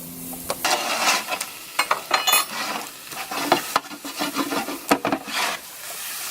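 Grilled peaches for a whisky hot sauce cook in a pan, with repeated scraping and stirring strokes over a soft sizzle. The strokes come in irregular bursts, close and fairly loud, with no one talking.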